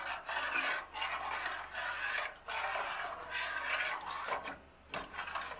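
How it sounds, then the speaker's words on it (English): A spoon scrapes and rasps steadily through potato soup in a pot, close and fairly loud, in long continuous strokes with short gaps between them. "Stir it up."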